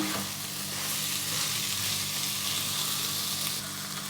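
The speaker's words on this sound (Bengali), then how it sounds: "দিয়ে আবার নেড়ে নেব" Okra frying with spices, salt and a little sugar, stirred in a pan for a Bengali yogurt bhindi dish: a loud, continuous close-up sizzle with steady scraping of the spoon and no talk.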